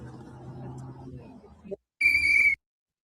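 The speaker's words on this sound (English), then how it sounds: "the whistles you hear in the background, that is like people who are observers warning that they're in the area" Observers blow a warning whistle, a single shrill, steady blast of about half a second heard after a stretch of muffled background noise and a brief pause.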